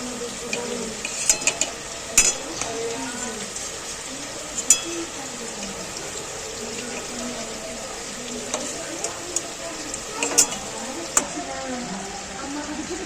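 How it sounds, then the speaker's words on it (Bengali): Sesame seed fritters (Bengali tiler bora) frying in hot oil give off a steady bubbling sizzle, with occasional clinks of a spoon or utensil against the pan and intermittent voices talking over it. "এপিট ওপিট ভালো করে লাল লাল করে ভাজা হয়ে গেছে বড়াগুলো"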